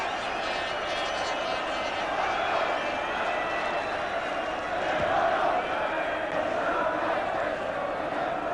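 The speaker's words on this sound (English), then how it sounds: "gets great applause for a simple collection." A football crowd applauds during the Derby v Plymouth Argyle FA Cup quarter-final replay, a broad, distant roar and clapping from the stands that swells slightly midway, with commentary talk running over it.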